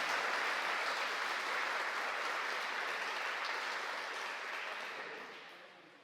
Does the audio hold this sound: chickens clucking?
no